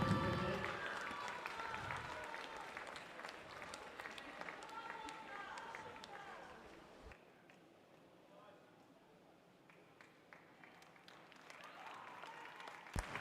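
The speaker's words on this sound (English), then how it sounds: "Let's cheer the rest of the swimmers as they're coming in." Spectators at a county swimming qualifier gala applaud and cheer as swimmers finish their race, steady clapping and crowd noise echoing around the pool that fades midway, then picks up again.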